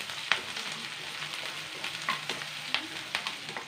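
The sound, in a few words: onions frying in a pan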